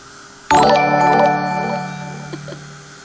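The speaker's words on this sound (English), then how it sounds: "And then we just got a little chime." A small notification chime strikes once, a bright bell-like ding with a sharp attack that rings on and slowly fades over a few seconds, heard alone and fairly loud.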